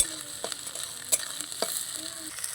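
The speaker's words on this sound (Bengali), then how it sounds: "পেঁয়াজটাকে কিন্তু আমি বেশি লাল করে ভাজবো না হালকা ভেজে নেব" Onions mixed with asafoetida (hing) being lightly fried in a pan: a soft continuous sizzle broken by a few sharp spatula scrapes and stirs, close up and without speech.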